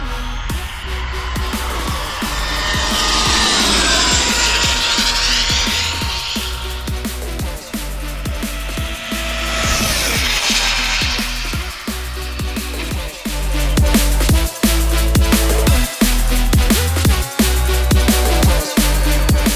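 Arrma Limitless RC car driving at speed, with a loud, continuous high-pitched electric motor whine that rises and falls in sweeps, plus rough rumble and clatter from the tires running over the surface.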